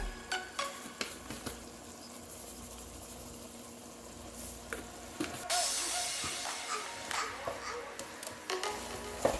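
Ground beef seasoned with garlic powder and seasoning salt cooking in a pan makes a soft, steady sizzle, punctuated by scattered clicks and scrapes of stirring and a brief louder surge midway.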